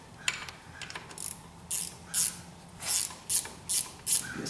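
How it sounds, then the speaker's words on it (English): A ratchet wrench removes drivetrain bolts from a split-window coupe chassis in a garage, giving repeated short bursts of quick metallic clicking, close and fairly loud, with brief pauses between strokes. "Now if I was smart, I'd use this wrench because it's quicker."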